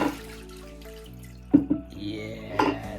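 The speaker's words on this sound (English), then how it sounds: "this is the dirty water that came out" Dirty water from a sofa cleaning machine is poured out, a running, splashing trickle with a few louder gushes and drips, heard close up without speech.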